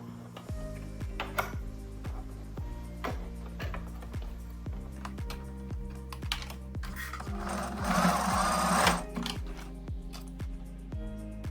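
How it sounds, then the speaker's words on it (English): A sewing machine runs in a steady, rapid rhythm of needle strokes while top stitching the tucked raw end of a dress strap for a backless summer dress, growing briefly louder and busier near the end. "the raw end is tucked inside the center of the strap, and then just add a little top stitch"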